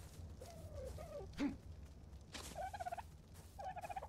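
A bird in ARK: Survival Evolved gives repeated gobbling, honking calls in short bursts over a dense rumbling game background, moderately loud and close.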